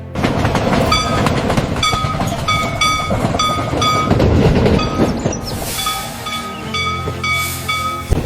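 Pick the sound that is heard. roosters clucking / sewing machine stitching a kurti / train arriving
train arriving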